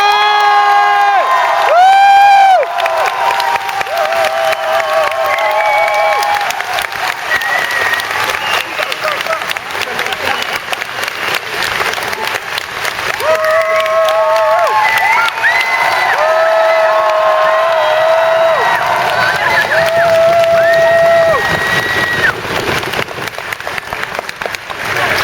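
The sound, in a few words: audience applauding and cheering for Christopher Judge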